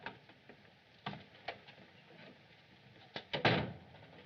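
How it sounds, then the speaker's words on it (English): A door is handled and opened nearby with a series of sharp clicks and knocks, ending in a louder rattling thump. "Open the door."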